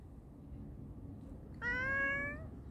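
After a quiet moment of low room noise, a pet cat gives a single clear, drawn-out meow close by.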